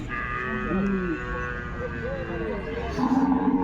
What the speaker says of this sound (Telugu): ఎద్దులు అయితే ఉన్నాయి రేట్ అయితే అడిగి చూద్దాము